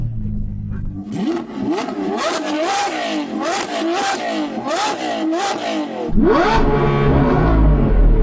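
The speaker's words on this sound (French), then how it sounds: "Je vais donc faire monter les régimes de mon V12 atmosphérique équipé d'un échappement Gintani." A naturally aspirated V12 engine with a Gintani exhaust revs up again and again in rising, falling sweeps, loud and close, then settles into a deep, rough idle rumble.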